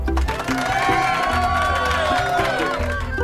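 Cheering crowd in a children's story scene, lively whoops and shouts with children's voices rising over a constant background bed, loud and close throughout.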